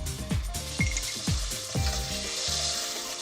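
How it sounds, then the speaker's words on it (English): Cumin seeds with ginger and garlic paste hitting hot oil during Indian home cooking, a bright steady sizzle with a few crackles and pops, close and moderately loud, with no talking. "Then in hot oil, Daisy adds cumin seeds and ginger and garlic paste"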